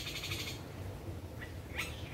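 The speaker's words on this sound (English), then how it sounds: "I think that's actually a woodpecker." A woodpecker calls outdoors in a few short, thin chirping notes, faint and somewhat distant over a low steady background rumble.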